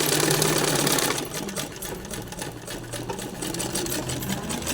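Sewing machine stitching a blouse during tailoring: a steady, fast mechanical whir and chatter of the needle running continuously, close up, easing slightly after the first second and then carrying on.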